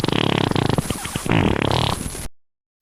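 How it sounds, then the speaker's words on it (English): Walter the dog lets out a series of loud, close farts, a long sputtering run followed by a second rippling burst before the sound cuts off. "you've got to stop farting"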